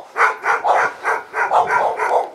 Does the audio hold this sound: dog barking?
yes